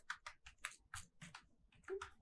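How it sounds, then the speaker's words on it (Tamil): Fingers type on a computer keyboard in a quick, uneven run of soft clicks and taps, quiet and close, with no talking. "பியூட்டி பேஜ் அப்படின்னு நம்ம டைப் பண்ண போகிறோம்."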